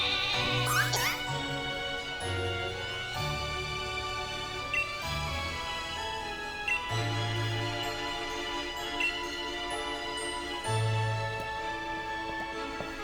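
A sheep Pokémon in Pokémon Sword gives repeated wavering bleats over bright, tinkling game music, each cry short and clear, recurring at uneven intervals.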